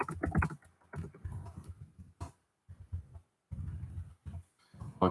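Bursts of keyboard typing, irregular clusters of clicks with short pauses between them, close and fairly clear.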